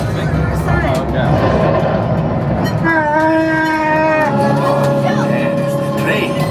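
Disneyland train passes loud and close, its rumble giving way to a sustained horn or whistle blast, with crowd noise and voices around it.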